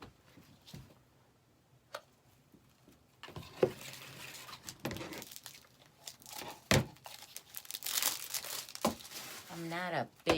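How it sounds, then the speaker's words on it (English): Dollar Tree ribbon is cut into lengths for an Easter bunny wreath, with crinkling rustles, occasional sharp scissor snips and tearing sounds at close range. A voice briefly joins near the end. "So I'm going to cut my ribbons at 12 inches long."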